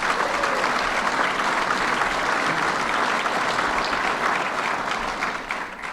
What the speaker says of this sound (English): Let's give the President a round of applause.